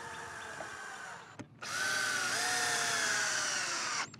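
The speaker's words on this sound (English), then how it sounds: "grab the other drill gun for me, we'll start adding the same 2-inch screws" A power drill whirs briefly, stops, then runs again in a long steady burst as a 2-inch screw is driven into a pine bench, close and fairly loud.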